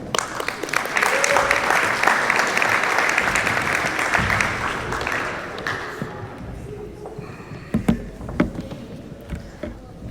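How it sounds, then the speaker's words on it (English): A crowd applauds a football player at a signing ceremony, a steady wash of clapping that fades out around the midpoint, leaving a few sharp knocks and room noise. "Keep that applause going"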